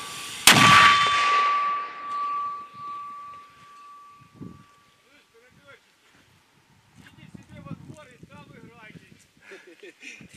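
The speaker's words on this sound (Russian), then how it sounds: "Выстрел!" A mortar fires during combat near Debaltseve, a single sharp, loud blast with a ringing metallic tail that fades slowly, then quiet with distant wind and voices speaking.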